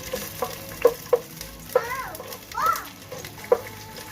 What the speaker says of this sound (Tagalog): Once the oil is hot, put the onions and cook it about 20 seconds.